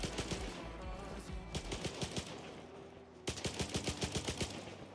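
Rapid bursts of automatic gunfire in the video game S.T.A.L.K.E.R. 2: Heart of Chornobyl rattle on without a break, loud and close, with a brief lull before another sustained volley.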